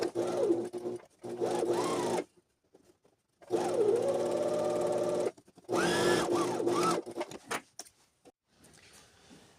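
A sewing machine stitches a trouser pocket seam about 7 mm from the overlock edge, running in three loud bursts of steady whirring with quiet pauses and a brief rattle at the end.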